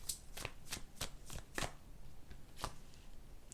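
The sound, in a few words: shuffling tarot cards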